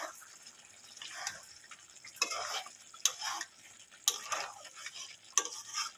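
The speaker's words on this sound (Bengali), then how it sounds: "উপর থেকে একটু গরম মশলা দিয়ে দেবো ভালো করে একটু নড়িয়ে নেবে" A spatula stirs a cauliflower roast dusted with garam masala in a pan, giving rhythmic scraping strokes roughly once a second, each with a crisp tap against the pan amid a soft sizzle.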